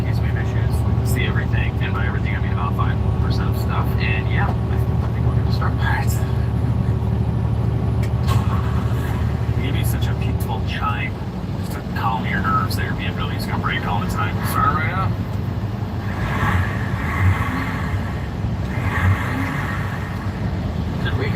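A turbocharged BMW diesel engine runs steadily with a continuous low drone and whistly upper hum, heard close throughout while people talk over it.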